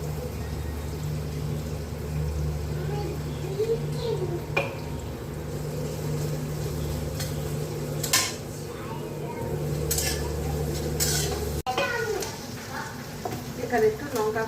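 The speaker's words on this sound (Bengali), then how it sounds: "আমি এবার পেঁয়াজগুলো দিয়ে দিচ্ছি।" Onions sizzle in a pan with garlic and garam masala for prawn biryani, with stirring clinks of utensil on metal, under a person talking.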